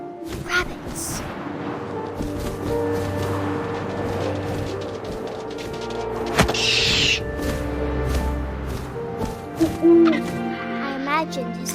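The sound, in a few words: owl hooting in the video game What Remains of Edith Finch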